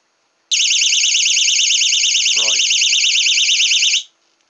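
Continuity tester sounding on a connected wire, a loud steady warbling electronic beep held for about three and a half seconds before cutting off, with a brief voice murmur beneath it.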